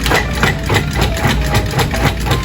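A food processor pulses chunks of butter into flour for quiche pie dough, a steady loud motor whir with repeated short surges, close up and without talk.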